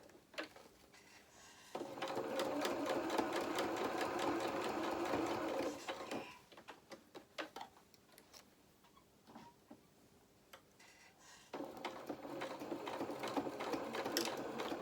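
Sewing machine stitching fabric for a hedgehog doll's head, two long bursts of rapid mechanical whirring and ticking split by a pause of slower, uneven stitches and clicks, close and fairly quiet with no talk.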